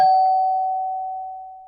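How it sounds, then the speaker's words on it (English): A doorbell in a cartoon children's story rings once, a clear sustained chime that fades slowly for nearly two seconds, close and alone with no talk. "each time we ring the bell,"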